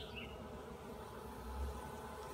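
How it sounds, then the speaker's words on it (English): A tiny colony of honeybees in a small hive at sunset, a faint, soft continuous buzz that stays low and steady throughout, heard close with no talking. "tiny little bunch of bees"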